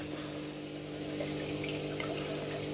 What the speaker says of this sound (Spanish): aquí estamos ahora mismo quitándole agua, sacándole todo el agua que podamos